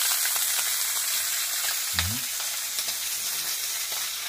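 Tomato, onion and garlic tipped into a pot with lamb for a stew, setting off a steady hiss of sizzling with one brief splash-like thud as they land, close and continuous.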